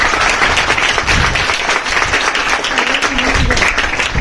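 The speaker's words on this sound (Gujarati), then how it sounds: "એના વતી બધે તમે તાળીથી વધાવો લ્યો" An audience applauding at a village school gathering, dense continuous clapping throughout with a voice faintly underneath.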